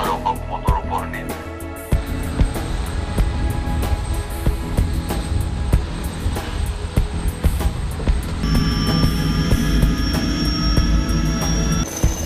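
A Puma Naval military helicopter's turbine engine runs at takeoff, a loud steady whine with rhythmic rotor thumps, the pitch rising and a high tone sharpening partway through.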